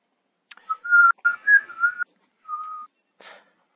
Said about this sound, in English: your whistling fills me with a violent rage